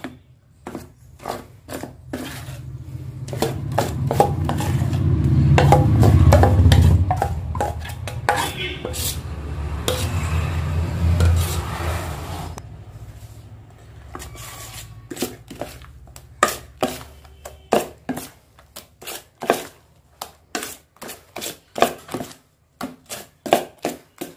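Dosa batter being mixed in a bowl with ginger and curry leaves, a soft wet stirring and scraping that swells and fades, then a run of sharp, rhythmic utensil taps and clinks against the bowl; no talking.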